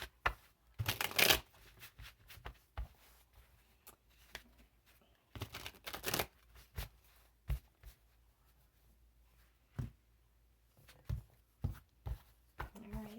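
Tarot cards being shuffled by hand: brisk riffling and slapping bursts that come and go, close but soft, with a voice speaking between and over the card noise.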